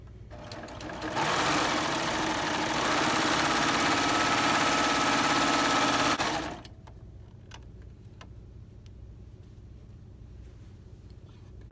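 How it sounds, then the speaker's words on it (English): A serger stitches a four-thread overlock seam on a pair of shorts in one steady, loud, whirring run of about five seconds. The machine then stops, leaving quiet room tone. "I just serged from seam to seam."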